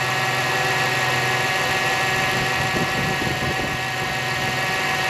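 A Jeep Wrangler with a TDI diesel swap idles close by, its steady engine drone carrying a continuous high-pitched power steering squeal above the rumble.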